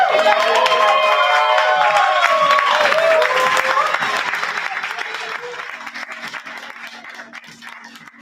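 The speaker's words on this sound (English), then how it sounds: "Make some noise for Henry!" Audience at an open mic night applauds and cheers loudly, a dense wash of clapping with whoops and shouts that gradually fades over several seconds.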